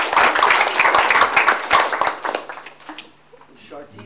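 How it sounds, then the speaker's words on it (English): A panel audience applauds in a dense burst of clapping that fades over the final second or two, leaving a quieter room. "Mariel, we can applaud."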